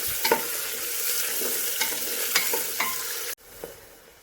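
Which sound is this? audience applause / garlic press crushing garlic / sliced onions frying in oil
sliced onions frying in oil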